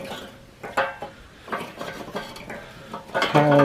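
Kingsford Blue charcoal briquettes being set by hand into a Weber kettle grill, giving a series of close hard clinks and scraping clatters at an irregular pace, louder toward the end.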